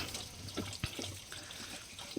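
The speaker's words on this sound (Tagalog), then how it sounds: "dito lang kami nag-iigib ng tubig" Water drawn from a mountain source, a soft continuous trickle and splash with a few small drips, close by and unaccompanied by talk.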